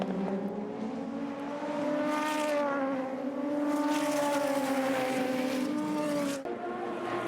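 Super Formula race cars battle at SUGO, one green car pressing a white car, their engines howling in rising and falling revs with gear shifts, loud and close, a sharp cut near the end.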